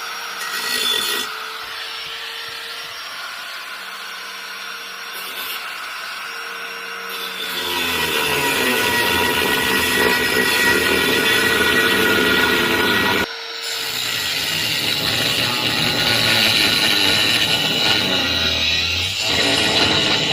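Close, loud saw cutting through the front deck of a Tracker boat, a sustained harsh grinding rasp that swells louder partway through and dips briefly before resuming.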